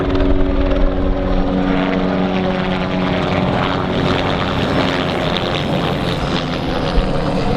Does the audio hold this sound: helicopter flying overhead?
yes